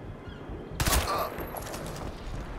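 Gunfire in the video game Crysis 2 arrives as a sudden loud burst of rapid shots that fades into scattered distant cracks, with a faint voice beneath.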